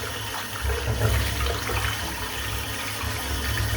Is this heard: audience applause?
no